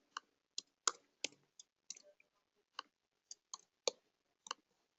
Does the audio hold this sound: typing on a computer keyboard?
yes